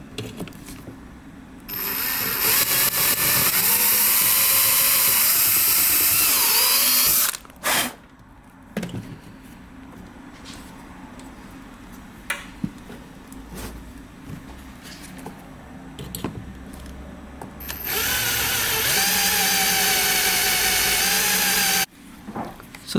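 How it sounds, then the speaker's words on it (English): A handheld grinder trims protruding speaker mounting screws in a Mitsubishi Lancer Evolution, whining loudly in two long bursts separated by quieter clicks and handling noise. "I just grabbed my grinder"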